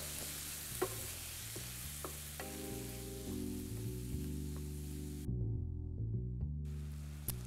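Pork and beef mince for a bolognese fries in a pan while being stirred, a quiet, steady sizzle with occasional scrapes, under soft background music and no speech.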